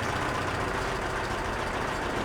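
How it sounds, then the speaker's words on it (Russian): A salt-corroded, rusty Yamaha F9.9B outboard motor running with its cooling system not working and overheating, giving a loud, close, unbroken engine drone with no voices. "Вот сейчас мотор перегревается, потому что не работает охлаждение."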